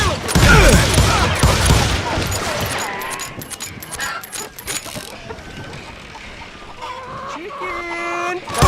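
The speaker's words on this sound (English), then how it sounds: "Chicken!" Chickens squawk and cluck through a burst of rapid gunfire in the Call of Juarez: Gunslinger video game, the shots loud and dense at first, then thinning out while the flustered clucking carries on up close.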